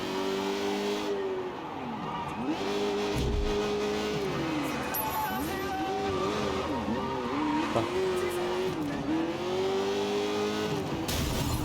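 A fast car driven in the video game Sleeping Dogs: the engine revs loudly and steadily, climbing and dropping with each gear shift, with brief tire squeals.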